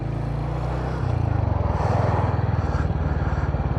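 Royal Enfield HNTR 350 single-cylinder engine running steadily while riding through city traffic, a low, even thump with a slight rise in pace partway through, close and continuous under wind noise.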